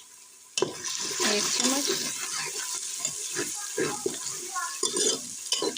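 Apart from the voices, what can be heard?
garlic added to frying onions, stirring and sizzling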